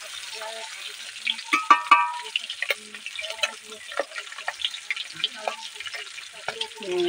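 Magur catfish pieces fry in hot oil for a fish curry, a steady close sizzle with bursts of popping and crackle, and a few louder spits around the middle, with no talking.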